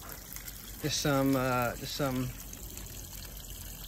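Water trickles and pours steadily over river rock in a garden wetland filter fountain running about 600–700 gallons an hour, a soft continuous flow heard under a voice speaking briefly.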